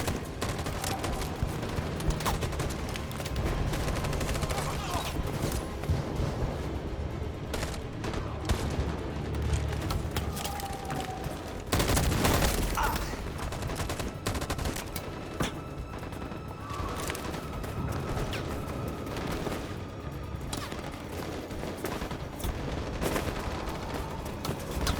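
Sustained gunfire from the video game Detroit: Become Human forms a dense, continuous barrage of rapid shots and bursts, with a louder explosive crack near the middle over a constant din.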